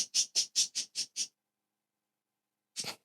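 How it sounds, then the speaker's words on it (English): Pet birds squawking loudly indoors: a rapid run of about six shrill calls, a pause of silence, then one more harsh squawk, close and alone. "Sorry for my birds."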